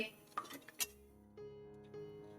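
A few quick metallic clinks and scrapes as a utensil mixes lukewarm milk in a bowl, close and brief, followed by a faint steady hum.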